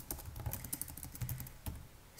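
Rapid, steady keystrokes on a computer keyboard while code is entered, a close, soft clatter of taps with a few louder key hits, no voices.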